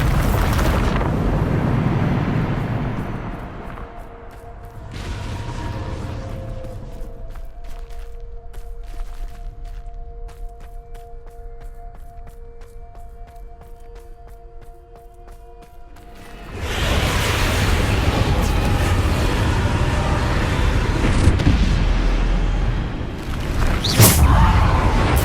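A Bombarda spell bursts in the Hogwarts Legacy video game, a loud booming blast with a whooshing rumble that fades to a quieter hum before another heavy eruption of sound swells up, with no speech.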